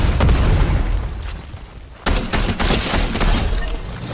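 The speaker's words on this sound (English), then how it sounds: "Let's throw some grenades." Grenade blasts and gunfire in a Fortnite match: a dense run of sharp booms and pops, a brief lull, then another loud cluster of bursts, with no talk.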